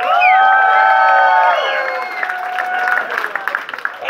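Concert crowd on the A38 ship venue in Budapest applauding and cheering, loud and dense, with whoops and tonal music or feedback lingering over the clapping before it thins out.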